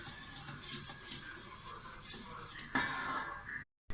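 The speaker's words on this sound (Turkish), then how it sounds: "Güzelce karıştıra karıştıra kaynatalım." A metal spoon scrapes and clinks around a pot of boiling Circassian lepsi soup in steady circular strokes, close up, with a brief sharper scrape near the end before a short cut.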